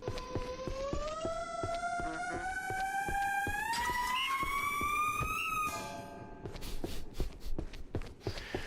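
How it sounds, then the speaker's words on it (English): A synthetic siren from an in-development video game wails with a steadily rising pitch, loud and continuous, then gives way to a lower, rougher throbbing hum near the end, with no voices over it. "Oh, it's the fucking siren thing again."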